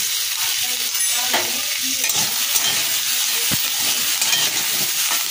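Vegetables sizzle and hiss steadily in a hot pan while being stirred, seasoned with salt and turmeric, with occasional scraping and clinks of the spoon. The frying stays close and continuous, with no talk.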